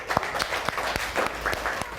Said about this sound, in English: Clap for him, everybody.